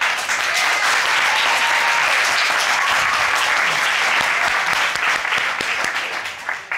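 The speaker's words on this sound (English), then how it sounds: "Why are you clapping?" Steady, dense clapping from a studio audience on a couples court show, loud and sustained throughout before easing off slightly at the very end.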